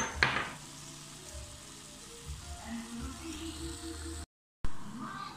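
Chicken afritada keeps up a quiet sizzle in a pan as powdered garlic is added, with a soft burst at the start and a brief dropout near the end.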